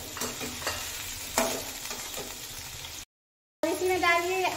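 Cauliflower goes into a pan of frying onion, giving a sizzle with scraping stir strokes and a louder burst as the pieces land, then a brief silence before a voice speaks over the cooking.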